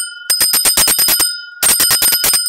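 A bright bicycle-style bell rings in two quick bursts of rapid dings, loud and close, with a short pause between them and no voices.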